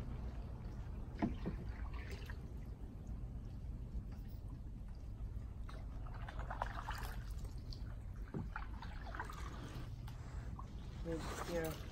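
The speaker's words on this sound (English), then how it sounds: "One-handed paddling." A kayak paddled one-handed through a mangrove forest gives faint, soft water splashes and trickles at irregular intervals, mostly underneath nearby talking.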